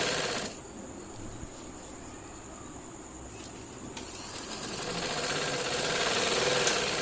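An electric sewing machine runs steadily as it stitches trouser fabric, a continuous mechanical whir lasting several seconds with small shifts in pitch and no speech.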